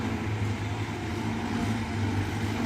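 A CAT 320GC excavator's four-cylinder diesel engine runs at a steady idle, giving a constant low, even drone that holds throughout without any change in pitch.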